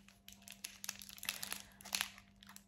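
Blunt scissors hack open the plastic packaging of a Sylvanian Families toilet set toy, giving close, steady crinkling and crunching with sharper snips and tears, with no talk.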